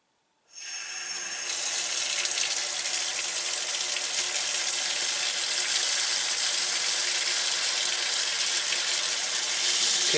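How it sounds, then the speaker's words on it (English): A Delta single-lever kitchen faucet with sprayer runs steadily into a sink after repair, a continuous hissing rush of water starting abruptly and holding at an even, close level throughout. "And let's give the faucet a test spin."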